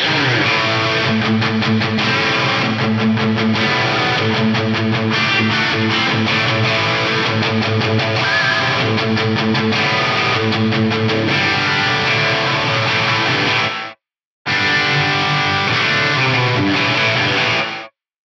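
A heavily distorted electric guitar plays thick, sustained chords through a Mighty Megatap delay set to a 40% mix, loud and continuous, with a brief silent gap before the playing resumes.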